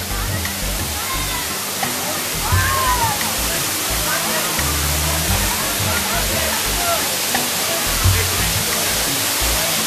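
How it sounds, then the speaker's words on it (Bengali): Bamni Falls in the Ayodhya Hills pours down with a loud, steady broadband rush of falling and splashing water. Voices are heard faintly over the constant roar. "এখান থেকে যে জলধারা নেমে আসছে সুন্দর ঝর্ণা হয়ে।"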